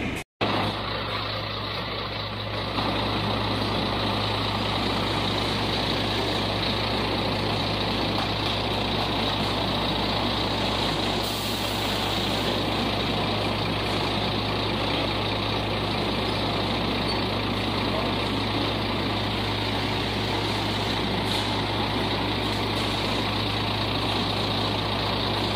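A truck engine idles with a steady, low rumble while the truck is loaded with sacks of potatoes on a farm in Itapeva, São Paulo. The sound runs unbroken for the whole stretch, close and constant, with no talk.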